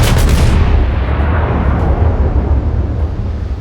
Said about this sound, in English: So I can keep shooting at him, but he can't shoot at me